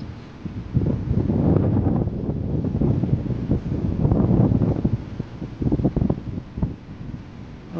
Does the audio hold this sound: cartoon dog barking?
no